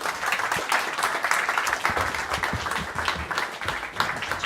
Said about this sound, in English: Warm applause, please, one more time.